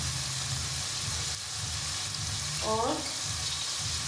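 Green chillies fry in hot oil with cumin and salt for a potato dish, giving a steady, close sizzling hiss throughout, with one short spoken word near the end.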